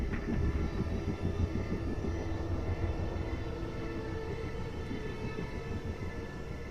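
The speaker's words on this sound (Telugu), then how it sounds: "హెలికాప్టర్ రెడీ, నేను చూస్తాను." A helicopter gives off a steady, loud engine and rotor drone that fills the whole stretch with no break and no talking.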